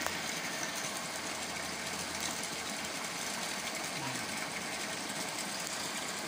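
A machine engine runs steadily near water flowing through a pipe, a constant loud droning rumble with no pauses or changes, filling the whole stretch.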